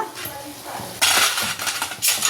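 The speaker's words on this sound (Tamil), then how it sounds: "அதில் புதினா சேர்த்து ஒரு கிண்டி விட்டுருவோம்" A spoon scrapes and clinks against a pan as mint is stirred into a potato curry, a few close metallic strokes in quick succession, the loudest bursts near the middle and end.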